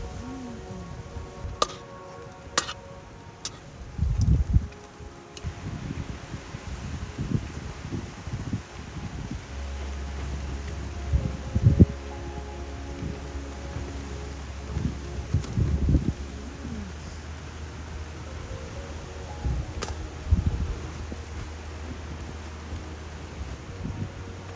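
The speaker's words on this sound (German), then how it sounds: "Der Wind will auch nicht nachlassen." Gusty wind rumbles and rustles through the open Lapland wilderness during a canoe expedition, with a low buffeting roar on the microphone and scattered knocks and scrapes at camp, steady over about twenty-five seconds.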